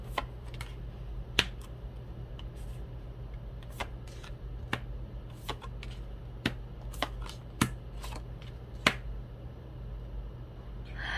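Tarot cards being handled at a reading table, with a series of soft, scattered flicks and snaps as cards are shuffled and turned over, irregularly spaced and fairly quiet against a low steady hum.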